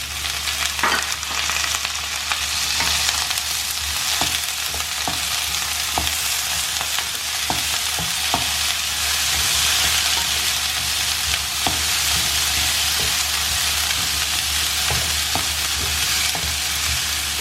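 Green chili and green peas stirred in a hot pan for beetroot rice sizzle continuously and loudly, with a steady frying hiss broken by occasional scraping clicks of the spatula.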